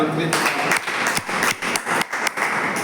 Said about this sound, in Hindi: चलो एक जोरदार ताली।